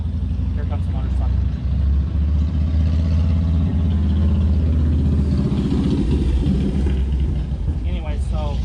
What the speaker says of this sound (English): I had to stop talking while that motorcycle went by, because it was too loud.